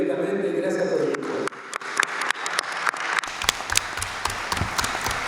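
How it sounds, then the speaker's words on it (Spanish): Audience applause at a commemorative political gathering, a dense crowd clapping steadily and filling the space, with a voice briefly heard under it at the start. "vamos a pedir un aplauso inmediatamente"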